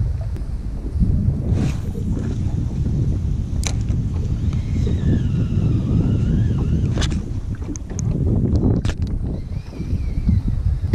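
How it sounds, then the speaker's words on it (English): Strong wind buffets the microphone throughout during a tiger trout fishing outing, a steady low roar with gusts and some faint higher tones from gear or line, loud and continuous with no talk. "I hate wind with a passion."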